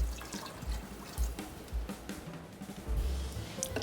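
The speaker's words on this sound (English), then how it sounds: "I'm going to stir in my beans and add enough water to cover them" Water poured into a pot of beans to cover them by about an inch, a close, irregular splashing and trickling with soft thumps, heard alone in a home kitchen.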